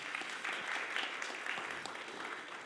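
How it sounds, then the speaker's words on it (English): An audience at a school budget forum in the Springbrook High School venue applauds a standing student board member with brisk, steady clapping that fills the room, moderately loud and continuous, without speech. "give him a round of applause"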